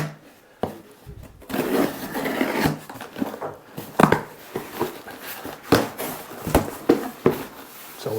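A knife slices open a cardboard package holding a Nikon Z6III camera, with scraping, tearing strokes and sharp rustling bursts repeating across the clip, close and fairly loud.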